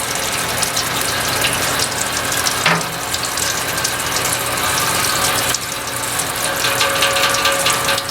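Pump pushing five gallons of concentrated beer wort through a plate chiller during a home brew of a Belgian wit, a steady whirring, rattling mechanical drone with a watery gush running throughout, close and constant.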